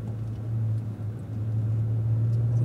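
A Cadillac ATS-V on a race track gives off a steady, close, low mechanical hum and drone from its drivetrain, holding an even pitch for a few seconds.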